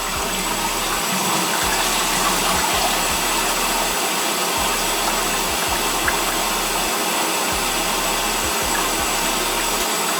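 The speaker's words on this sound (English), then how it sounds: "So go ahead and get a flush going." A toilet flushes with a steady, loud rush of water swirling and draining, and a low pulsing hum runs underneath throughout.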